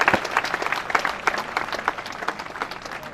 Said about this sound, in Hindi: आप लोग जोरदार तालियों से इनका स्वागत करिए।